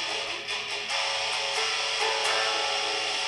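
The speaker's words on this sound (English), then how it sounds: "if you want to rock out, you can play with some distortion, a little distortion pedal here, give it more of a sound like this" An electric guitar plays through a distortion pedal, giving a dense, saturated and loud tone that sustains steadily for a few seconds, with no talking.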